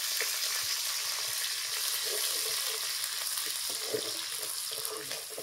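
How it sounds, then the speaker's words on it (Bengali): Chopped onion fries in oil in a pan, giving off a constant close-up sizzle with faint crackles and occasional stirring taps. The sound fades slightly toward the end, and there is no speech. "এবারে আগে থেকে যে পেঁয়াজটাকে কুচিয়ে রেখেছি ওই পেঁয়াজটা এর মধ্যে দিয়ে দেব। দিয়ে ভালো মতো এটা ভেজে নেব।"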